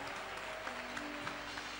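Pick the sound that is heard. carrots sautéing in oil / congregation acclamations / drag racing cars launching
congregation acclamations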